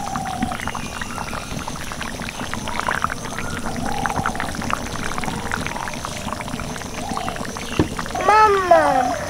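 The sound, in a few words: chicken meat boiling in a pot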